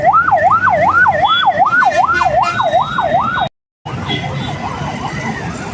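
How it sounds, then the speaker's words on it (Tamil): An ambulance siren wails in a steady rapid up-and-down cycle on a busy main road, loud and close, cutting out briefly before a fainter siren continues amid traffic. "இது எத்தனை ஆம்புலன்ஸ் போட்டு கொஞ்ச நேரத்தில் 2 ஆம்புலன்ஸ் போயிடுச்சு பாருங்கள்"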